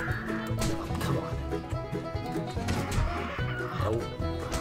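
Chickens in the game 7 Days To Die clucking and squawking in agitated bursts nearby, mixed with game sounds and background music.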